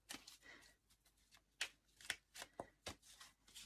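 Tarot cards are shuffled in quick, soft bursts of riffling and slapping, close and quiet, in an irregular rhythm.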